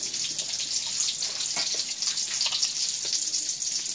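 Running water pours steadily over snails and banana blossom being rinsed for a Thai spicy snail salad, a continuous close hiss with faint clinks of handling and no talk.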